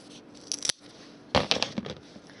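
Scissors snip a craft piece for a camouflage CTL Mark II cannon model in two, giving a few short crisp cuts in two quick bursts with a pause between, close and fairly quiet with no voices.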